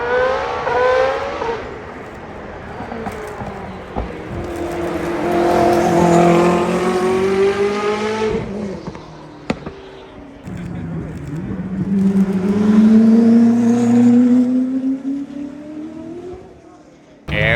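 A Lamborghini Sesto Elemento sports car sits in a lineup of supercars, its engine revving in two long rising and falling pulls with a brief pause between, loud and close over ongoing background chatter.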